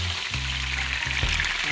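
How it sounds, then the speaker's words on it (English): Fish frying in a pot of hot oil, a steady dense sizzle and crackle heard close up with faint low bubbling underneath, continuous and without talk. "We don't have to fry them too dry."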